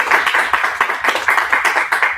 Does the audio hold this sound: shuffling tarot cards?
no